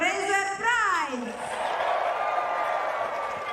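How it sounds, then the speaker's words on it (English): A stadium crowd at a women's 100m athletics meet cheers loudly for sprinter Shelly-Ann Fraser-Pryce as she is introduced, a sustained roar with whoops and whistles swelling then settling, a voice rising briefly above it at the start. "Oh, pretty big cheer for her."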